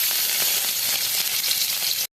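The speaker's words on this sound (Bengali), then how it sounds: "এখন আমি রসুন ভেজে নেব" Garlic frying in mustard oil in a pan gives a steady, dense sizzle that fills the whole clip without pause, close and fairly loud, with no voices over it.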